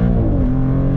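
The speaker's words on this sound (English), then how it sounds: "we're gonna go back into sport mode and floor it" Maserati GranCabrio Trofeo engine pulled at full throttle in sport mode, a loud, close, steady roar with a rising pitch that holds for the whole moment.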